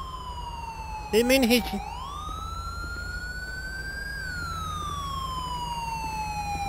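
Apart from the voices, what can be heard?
ambulance siren, from video game Grand Theft Auto V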